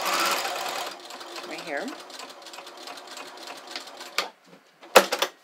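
A domestic sewing machine stitches a seam on ready-to-wear pants, a close rapid whirring run of needle strokes under a speaking voice, followed by a few separate clicks and a sharp clack.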